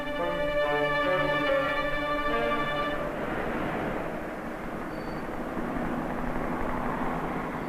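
A police helicopter passes over a city, its steady rotor and engine drone thick and continuous, with an earlier harmonic whine fading into broad rumbling noise.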